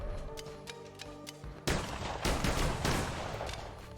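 Blunderbuss gunfire in the video game Cult of the Lamb comes as rapid clicking shots, then a dense, noisy burst of repeated blasts that carries on for a couple of seconds.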